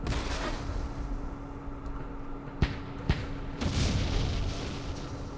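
Mortar fire in the Vietnam War strategy game Campaign Series Vietnam: a steady low rumble of battle with two sharp, distant thuds and a swelling blast toward the end.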